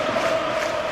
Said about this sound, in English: Great atmosphere, even though the crowd are quite a long way away from the pitch in this stadium